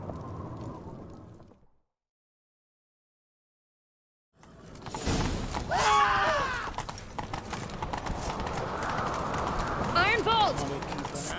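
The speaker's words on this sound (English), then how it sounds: "Grab a horse, we'll chase him down." Horse hooves gallop in The Witcher 3 in a rapid, steady clip-clop that comes in after a pause of silence, with voices talking and calling over the running.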